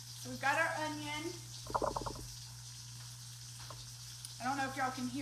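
Chicken frying in a pan gives a soft, steady sizzle in the background of a home kitchen, faint under brief bursts of speech and a few clinks.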